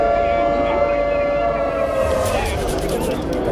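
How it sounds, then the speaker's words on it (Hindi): Air raid sirens wail across Israel during an Iranian missile attack, a steady continuous tone under a busy noisy background with talk. "पूरे इजराइल में लगातार सायरन बज रहे हैं।"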